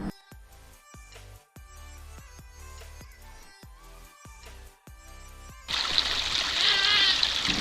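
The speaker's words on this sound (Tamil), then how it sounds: "இது வந்து பார்த்திங்கன்னா தண்ணி வந்து தொட்டிலேருந்து எடுத்து விட்டுருக்கோம். அதுலேருந்து வந்துட்டுருக்கு. இங்கே ஒரு சின்ன வாய்க்கால் போகுது." Water runs from a farm tank into a small irrigation channel, a soft steady trickle at first that swells into a louder, close rushing splash toward the end.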